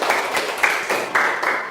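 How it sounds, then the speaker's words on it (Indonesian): A class clapping hands together in a rhythmic pattern, several group claps spaced fairly evenly across a short stretch, moderately loud in a room. "Tepuk tangan terlebih dahulu."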